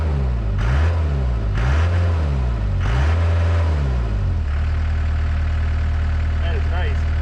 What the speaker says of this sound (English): I can rev it up and it doesn't even smoke.